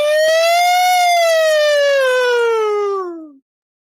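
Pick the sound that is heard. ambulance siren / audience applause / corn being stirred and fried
ambulance siren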